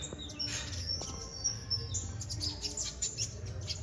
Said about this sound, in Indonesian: Ini burung posisi udah bunyi semua.